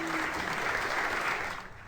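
Steady clapping from a group at a São Paulo hospital greets the oldest known COVID-19 survivor in Brazil as she is wheeled out, dense and continuous before thinning at the end.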